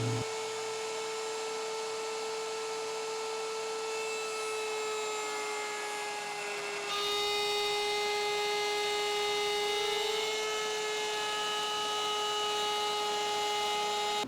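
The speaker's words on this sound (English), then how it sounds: "We can then move to the router and very carefully make sure we are adhering to the lines that we drew." A wood router cuts a hinge recess into a wooden bench back rail. It gives a loud, continuous high whine with a steady tonal hum that shifts slightly partway through, running alone for the whole stretch.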